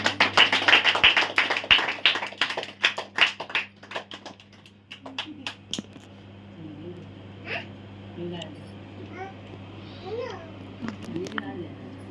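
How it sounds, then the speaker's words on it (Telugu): A small group claps together at a family blessing for Sneha, a dense, close burst lasting several seconds before thinning into scattered claps, with voices and a child's babble continuing underneath. "అందరూ చప్పట్లు కొడదాం."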